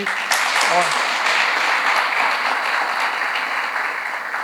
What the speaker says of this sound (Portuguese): Uma salva de palmas para as enfermeiras aqui.